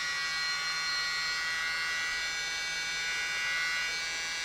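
A small handheld mini blower whirs steadily at close range, pushing cell activator across poured resin colours on a coaster, a constant electric buzzing hum with no talk.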